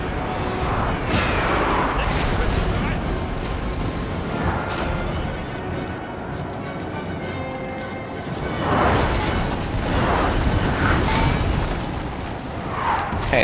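Cannon fire in the Napoleon: Total War video game, with artillery battering a fort wall during a siege, heard as repeated loud booms and crashing impacts. They come in bursts around the start and again near the end, over continuous battle noise.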